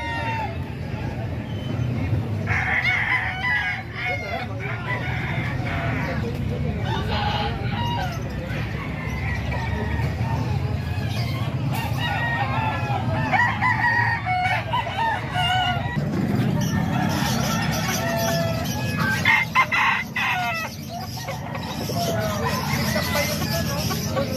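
Roosters and chickens at a Calumpit fowl sale crow and cluck over steady crowd babble, with several calls rising above the busy background din throughout.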